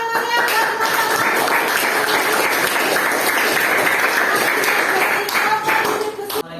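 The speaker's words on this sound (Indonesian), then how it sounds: "beri aplaus yang meriah buat teman-teman" Classroom audience applauds classmates at a teacher performance assessment presentation, a loud sustained burst of many hands clapping that holds steady for several seconds before trailing off, with a voice briefly heard underneath.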